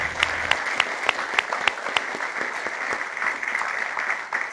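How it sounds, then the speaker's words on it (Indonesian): Studio audience at a Who Wants To Be A Millionaire game show applauding a contestant, a steady spread of many hands with a few sharper claps standing out, sustained and moderately close throughout. "kita berikan tepuk tangan buat Asep"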